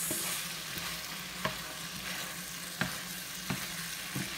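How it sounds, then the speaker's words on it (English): Shrimp being tossed in a frying pan with black pepper sauce sizzles steadily up close, and a few sharp clicks of utensil against pan mark the stirring. "I'm going to go ahead and add the shrimp back in. Give everything a toss."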